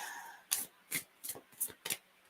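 Five quick papery riffles of cards being shuffled, evenly spaced and close, with quiet room tone between them.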